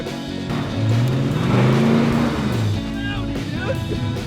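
A truck engine strains up a muddy hill in second gear at full throttle, its pitch sweeping upward then falling back, loud and close with a rough, churning rumble.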